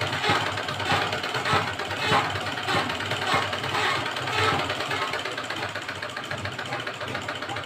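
A sewing machine stitches blouse fabric with a continuous whirring, rhythmic mechanical hum in bursts, close and fairly loud, with no talking.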